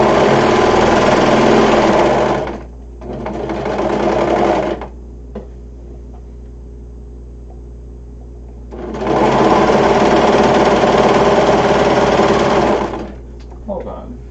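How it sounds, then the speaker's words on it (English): A serger sewing machine stitches fabric in two loud, fast whirring bursts of a few seconds each, with quiet pauses between them and a steady low hum underneath, close to the listener. "I'm going to serge that bit just a little bit up and back"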